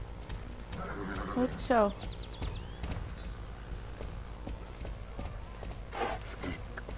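Horse hooves clip-clop in the Star Stable video game, with a brief whinny and tack sounds over a background music bed while a person talks throughout.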